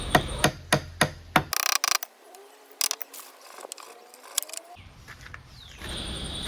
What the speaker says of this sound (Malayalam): മരത്തിൻ്റെ ആണി നമ്മൾ ഇതേപോലെ ഫെവിക്കോൾ അപ്ലൈ ചെയ്ത് നമ്മൾ ഇതേപോലെ അടിച്ച് അമർത്തി നമ്മളത് ഫിറ്റ് ചെയ്തെടുക്കുന്നുണ്ട്.